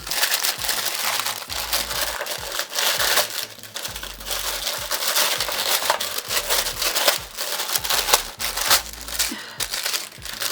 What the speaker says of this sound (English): let's just open the ribbon and a little sticker.